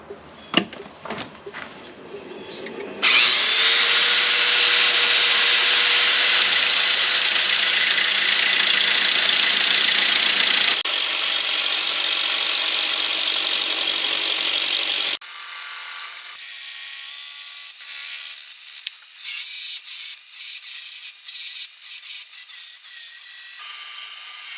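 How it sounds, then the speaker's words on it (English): Power sander working on acrylic key fob blanks: after a few clicks, a loud, steady motor whine with abrasive grinding runs on and changes tone in stages as the pressure and contact shift, close up with no talk. "Get our sander out here."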